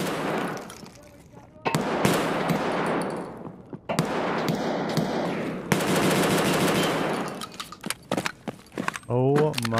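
Rapid automatic gunfire punching through walls in Escape From Tarkov, loud bursts and sharp cracks in several volleys, with footsteps and gear rattling between them and someone talking over parts of it.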